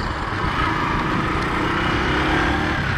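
A motorcycle engine drones steadily while riding, a close, buzzy and fairly loud running note with no pause and no talking.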